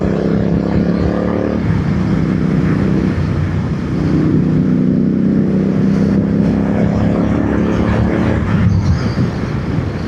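A motorcycle's exhaust drones steadily while riding on Indian roads. The low, continuous engine rumble is mixed with road and wind noise and stays close throughout.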